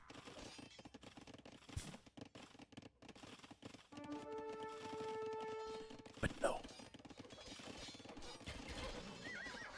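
Horse whinny and clip-clop hooves from a mounted axe-wielding Boyar cavalry unit in a strategy video game, a whinny with stacked tones near the middle followed by a sharp burst, all under steady talk.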